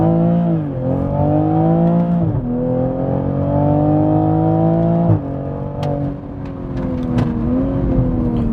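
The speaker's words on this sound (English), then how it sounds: "Those upshifts are fast." A Toyota A90 Supra accelerates hard, its engine note climbing steadily and dropping sharply at each quick upshift, two or three shifts in a row, loud and close with no talking.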